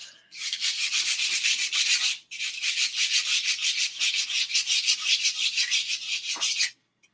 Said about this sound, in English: the bottom of that needs to be sanded after I get the top of that again